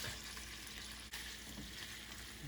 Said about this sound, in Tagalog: Hanggat hindi pa po masyadong mainit yung mantika o kawali, ilagay nyo na po yung pork.